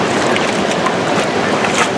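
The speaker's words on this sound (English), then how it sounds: "Look at the rushing water." Water rushes loudly and continuously at the top of a waterfall in Tahoe, a dense, close hiss with some wind buffeting across the microphone.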